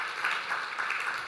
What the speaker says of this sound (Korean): 우리 인사하실 때 축하 박수 하도록 하겠습니다